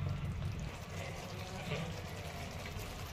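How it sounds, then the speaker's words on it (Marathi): Water left from boiling drumstick pods being poured into a pan of vegetables, a steady close gushing splash that runs evenly throughout without pause. "हे शेवग्याचे शेंगा उकडून घेतलेलं हेच पाणी टाकणार आहे भाजीला"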